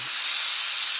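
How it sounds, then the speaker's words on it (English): A short, steady hiss of WD-40 contact cleaner sprayed from an aerosol can onto an electrical part, close and even for about a second after a faint thump at the start. "I'm going to spray this with I'll start at the back."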